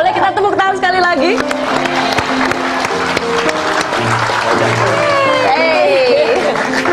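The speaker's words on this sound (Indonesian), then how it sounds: "Boleh kita tepuk tangan sekali lagi?" Studio audience applause on a TV talk show, clapping running beneath a busy mix of voices and background music, with people talking over it throughout.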